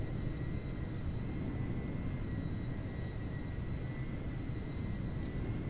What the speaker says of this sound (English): Keep an eye out for any of these other planes flying around.